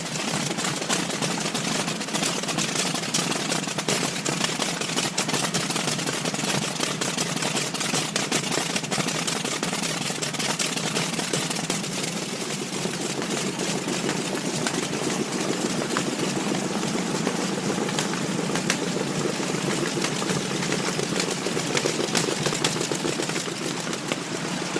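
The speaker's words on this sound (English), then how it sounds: "The MTU-12V 396 is a robust diesel engine, manufactured by MTU Friedrichshafen" A large MTU 12V 396 marine diesel engine running steadily, a dense continuous roar with knocking mechanical clatter that holds level throughout with no talk.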